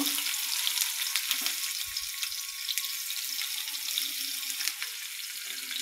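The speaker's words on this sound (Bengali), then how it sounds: "প্রথমে আমি যে এখানে পেঁয়াজ কুচি, রসুন কুচি একসাথে নিয়েছি, এগুলো দিব শাক ভাজির জন্য" Chopped onion and garlic fry in hot oil for greens, a steady close sizzle with faint scraping stirs and small clatters underneath.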